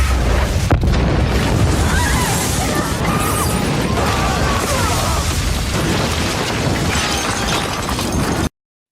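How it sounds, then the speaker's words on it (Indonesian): A loud, sustained explosion at a university, with roaring debris and crackling filling the clip, then cutting off abruptly at the end. "terjadilah ledakan di universitas itu"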